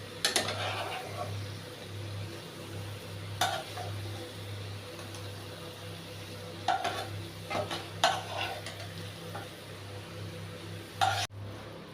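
A spoon scoops dahi baingan, eggplant cooked in yogurt, out of a wok. A handful of sharp scrapes and metallic clinks are spread out over a low, steady kitchen hum.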